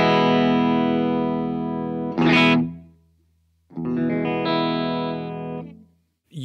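A Gibson Lzzy Hale Explorerbird electric guitar plays through its middle pickup with heavy distortion. Two loud, sustained chords ring out with a short scraping strum between them, then the second chord fades into near silence.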